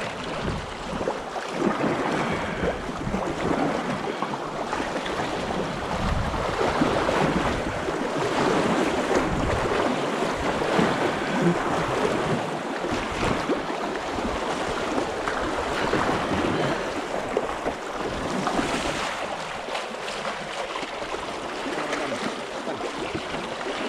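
River rapids on the Nuorittajoki rush and churn around a paddled canoe in a continuous loud roar, with wind buffeting the microphone throughout.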